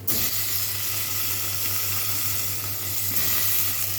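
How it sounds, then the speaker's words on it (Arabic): Rice sautéing in a pot with onions and cloves gives a steady, close sizzle and hiss that runs unbroken for the whole stretch, with a low constant hum beneath it. "هيتشوح الرز شويه. اتشوح كله مع بعضه."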